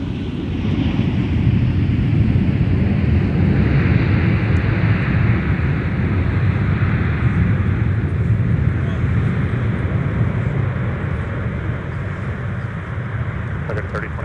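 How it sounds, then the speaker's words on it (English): An airliner landing on autoland at Minneapolis airport, heard as a steady broadband jet roar with wind buffeting that holds at a constant loud level throughout, with radio chatter mixed in. "So I'm guessing this is the Autoland aircraft. So we'll see how the computer lands this"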